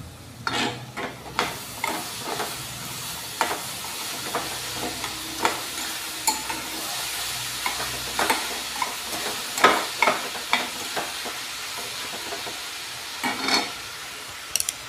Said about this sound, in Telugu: ఇది శుభ్రంగా ఎర్రగా వేగనివ్వాలి. బాగా ఒక 5 నిమిషాలు వేగాలి.